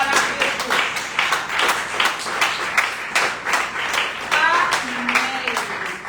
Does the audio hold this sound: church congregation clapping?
yes